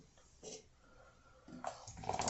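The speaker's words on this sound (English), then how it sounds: "Let me pour the rest of it." Colt 45 malt liquor beer is poured into a glass, giving brief quiet glugs and fizzing splashes, faint at first then louder toward the end, with no talk.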